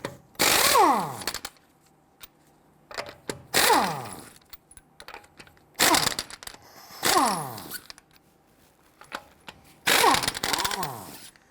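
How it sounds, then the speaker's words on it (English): On a 2008-2013 INFINITI G37 X, lug nuts are loosened and removed with a 21mm socket: five loud, close bursts of power-tool rattling and whirring, each winding down, with brief quiet gaps between. "Using a 21mm socket, loosen and remove your lug nuts."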